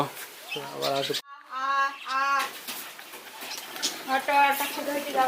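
Pigeons coo in low, throaty bursts, several calls close by, with a person talking over and between them.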